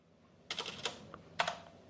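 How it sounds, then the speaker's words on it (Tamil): Typing on a computer keyboard while working in Photoshop comes through as two quick bursts of clicking keystrokes, fairly close and moderately loud, with a brief pause between them and no talking. "அதுக்கப்புறம் நம்ம டைப் பண்ண வேண்டியதுதான்."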